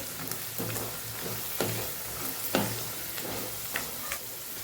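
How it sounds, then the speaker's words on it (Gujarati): Sesame seeds and peanuts roasting in a pan, a soft constant sizzle broken by repeated scraping strokes of a spatula stirring at a regular pace, close and fairly quiet, with no voices. "એને સરસ આપણે સાતળી લેવાનું છે। તલ અને માંડવીના દાણા એકદમ સરસ શેકાઈ જવા જોઈએ।"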